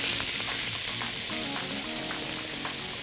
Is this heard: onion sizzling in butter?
yes